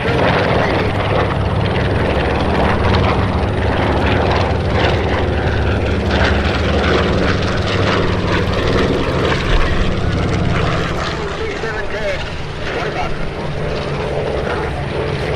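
A World War II Douglas A-26 Invader warbird passing overhead at an airshow, its loud, continuous propeller-engine drone filling the scene and easing slightly toward the end, with voices audible beneath it.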